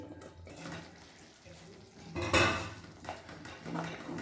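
Gram-greens with besan get stirred in a pan, a spoon scraping and clanking against the metal in uneven bursts, loudest midway, with some quiet background voice.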